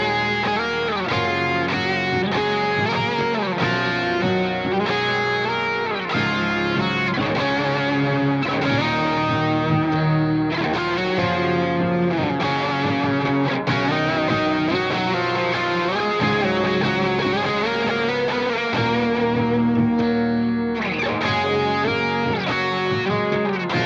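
Distorted electric guitar plays a melodic solo line doubled in octaves, with a dense, sustained, continuous tone from start to finish and no talking.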